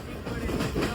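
Steady rumble and rattle of a Tutari Express train carriage at night, heard from inside, with continuous low rolling noise and faint background voices.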